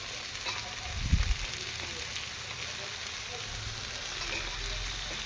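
Chicken pieces dropped into hot oil over fried onions, a brief thump and splash followed by a continuous moderate sizzle.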